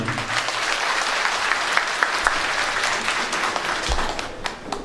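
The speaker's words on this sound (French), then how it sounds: "Je voudrais avoir un tonne d'applaudissements pour eux" Loud, dense applause from a political gathering crowd in Brussels, steady clapping with a few sharper claps standing out, continuing without a break.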